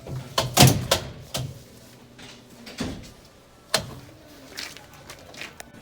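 A back door at a cat cafe opens and closes several times. It gives sharp knocks and latch clicks with quieter creaks and shuffles between them, close by with no talking.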